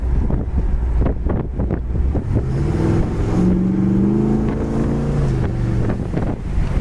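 A 1965 Pontiac GTO convertible with Tri-Power carburetion kicks down its automatic transmission under full throttle, the engine note climbing in a swelling roar over gusty wind buffeting.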